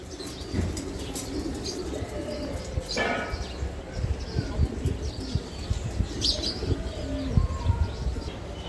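Racing pigeons coo and murmur close by, with flapping wings and scattered chirps forming a restless, continuous flock sound.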